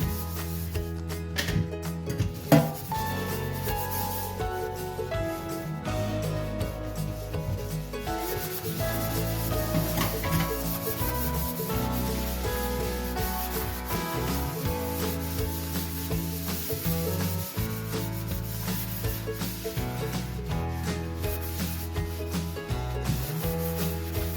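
A sponge with cleaning cream scrubs a stainless steel kitchen sink in steady, close strokes, rubbing and squeaking without a break. No one speaks.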